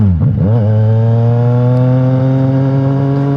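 Kawasaki-style 675 NK motorcycle engine with a full-system exhaust, a loud steady idle after a cold start, a quick blip of revs at the start settling into a constant drone, close up with no talking.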